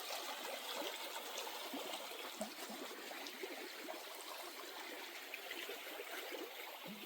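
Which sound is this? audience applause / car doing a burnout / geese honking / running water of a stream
running water of a stream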